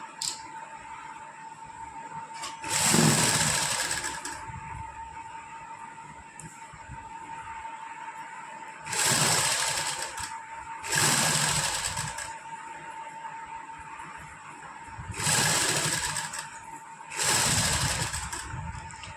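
Sewing machine stitching cutwork lace onto a suit's hem and sleeves, running in loud bursts of a few seconds each, with quieter gaps between them, steady mechanical whir and no speech.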